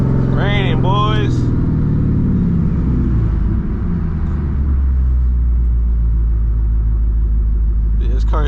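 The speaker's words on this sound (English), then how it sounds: "This car is so fucking loud." A deep, loud straight-piped 2007 Ford Mustang GT engine rumbles steadily and continuously, with a couple of voices talking briefly over it at the start, in the rain.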